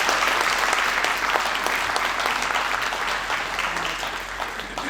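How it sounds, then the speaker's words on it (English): A large audience applauds after a speech about building the Obama Presidential Center, a loud, sustained wash of clapping that carries evenly for about five seconds and tapers only slightly near the end. "Let's again give a round of applause to John and the entire team at the Obama Presidential Center"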